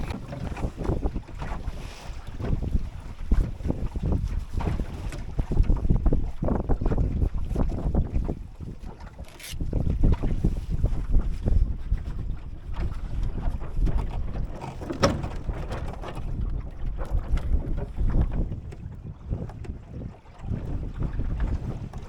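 A small sailing dinghy with new sails and a mizzen runs under sail, with continuous loud wind buffeting and a rushing wash of water against the hull throughout.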